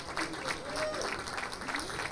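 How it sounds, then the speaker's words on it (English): Applause breaks out from the audience at the Miss Continental Elite 2006 pageant, a close, moderately loud patter of clapping hands with scattered cheers and voices mixed in. "We should give her a nice round of applause right here in front."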